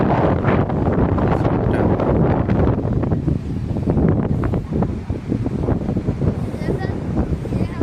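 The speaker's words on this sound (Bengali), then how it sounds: "খুব খুব সুন্দর হাওয়া, একদম সমুদ্রের উপরে।" Strong sea wind at a beachside resort in Mandarmoni buffets the microphone in loud, continuous gusts and rumbles, with softer stretches midway.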